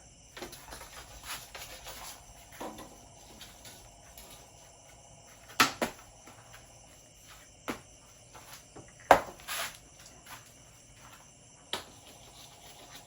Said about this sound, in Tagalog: Maraming insekto. Kasi nasa farm tayo, sa bukid.